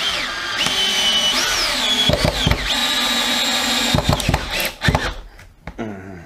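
Power drill driving screws into wood without countersinking, a loud whirring motor with rising pitch sweeps, several short bursts and stops as each screw bites and seats, close by.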